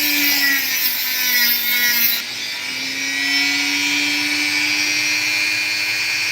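A powered saw cuts through an opal, its steady high whine and tonal motor hum running continuously and loud, with a brief dip partway through before the grinding resumes.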